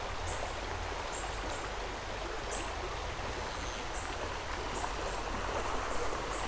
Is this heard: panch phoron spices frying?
no